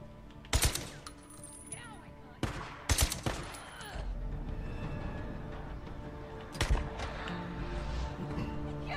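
Gunfire in the survival game Days Gone: several sharp, loud shots, some in quick pairs, separated by pauses, over a low continuous game ambience.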